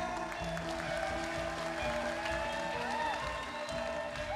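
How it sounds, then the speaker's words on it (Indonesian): Applause from the audience after a student ketoprak performance at a festival, steady clapping mixed with crowd murmur and background music tones, continuous throughout. "sekali lagi tepuk tangan yang meriah"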